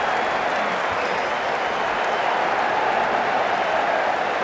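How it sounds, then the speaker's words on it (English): Stadium crowd at a T20 cricket match between India and West Indies, a dense, steady roar of cheering and applause from a large distant mass of spectators, sustained without break, after a boundary four. "The crowd are loving this"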